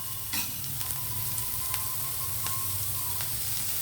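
Chopped tomatoes, green chillies, coriander and other vegetables frying in a pan for Indian-style macaroni pasta: a steady close sizzle with occasional stirring clinks, no talking.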